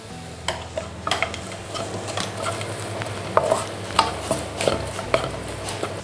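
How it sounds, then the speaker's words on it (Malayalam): Onions and fresh green peas are stirred with salt in a pan for egg kothu idiyappam, with close scraping and sharp utensil clinks over a light sizzle, and the knocks cluster more densely toward the end. "സ്വല്പം ഉപ്പൂടെ ഇട്ട് ഇളക്കാം."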